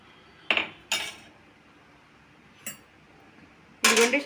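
A metal pot set onto a stand and covered with one lid, then a second, giving a few sharp clinks and clatters spaced apart in a quiet room, the last one a longer rattling clatter.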